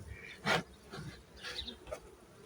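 Honeybees buzz faintly around an opened hive during spring hive care, in short scattered drones that come and go against a quiet background.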